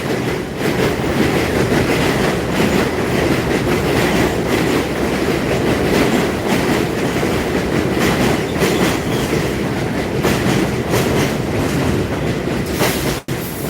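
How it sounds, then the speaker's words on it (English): A train rumbles past on an elevated line over a street in Bensonhurst, Brooklyn, loud and close, with continuous roaring wheels and rhythmic clatter sustained for the whole stretch. "here comes another train"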